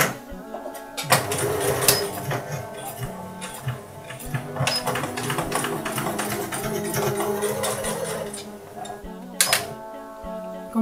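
A sewing machine stitches the side seam of a long dress in rapid bursts of whirring mechanical clatter, starting and stopping several times, close and fairly loud.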